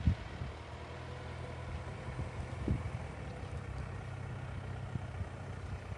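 A Range Rover Evoque creeps slowly over off-road terrain in four-wheel drive, its engine a low, steady rumble at gentle revs with a few soft knocks from the ground beneath, fairly distant and with no talking.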